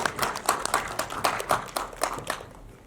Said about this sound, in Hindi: बहुत तालियां हो जाए।